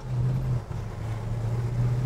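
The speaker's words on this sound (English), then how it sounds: "It's got that throaty exhaust." Throaty exhaust of a 1958 Chevrolet Apache pickup truck rumbles low and steady at cruising speed, with a brief dip in the drone, heard close with no voices.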